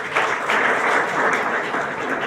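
A classroom audience at a talk on moral values gives a short burst of steady, dense applause. It is close and fairly loud, with no speech over it.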